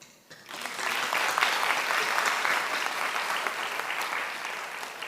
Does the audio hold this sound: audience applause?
yes